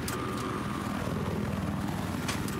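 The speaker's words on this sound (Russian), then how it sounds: "Обнаружил вертолет противника." An enemy helicopter in the Battlefield 4 Siege of Shanghai map, its rotor and engine a steady distant drone held evenly throughout, with a couple of sharp bursts near the start and end.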